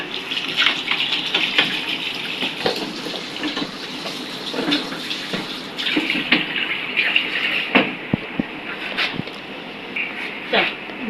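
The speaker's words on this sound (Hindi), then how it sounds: "पहले मैं इससे धो देती हूँ मसाले वाले डब्बे को।" Running tap water splashes steadily while a spice container is washed under it in a home kitchen, with a continuous gushing hiss broken by small knocks and clatters of the container throughout.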